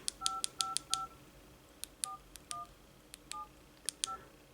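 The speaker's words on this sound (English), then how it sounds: "and let's make a phone call." A phone pen's keypad gives off a rapid series of short, clean dialing beeps, first in a quick run of five, then in scattered pairs and singles, fairly quiet in a still room.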